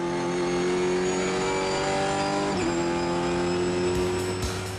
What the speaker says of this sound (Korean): 270km로 달리는 상태에선 추월이 무척 힘듭니다.